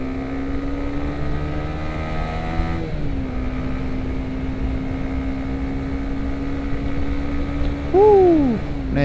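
Heard from a CBR150R motorcycle moving through a traffic jam, a droning engine hum runs steadily, shifts pitch partway through, and ends with a brief rising whine of another vehicle accelerating close by.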